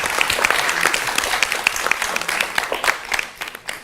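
Applause from an audience at a political election discussion, a dense round of clapping with some sharper individual claps standing out, tapering off toward the end.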